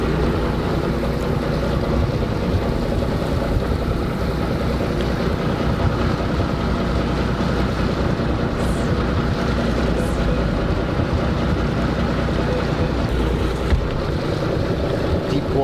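Boat drifting to a stop on open sea while fishing over a deep-water FAD, with a steady broadband wash of wind and water and a low rumble throughout, no clear engine changes.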